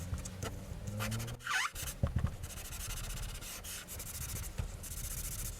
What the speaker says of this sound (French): Et j'encre seulement les bords tout autour.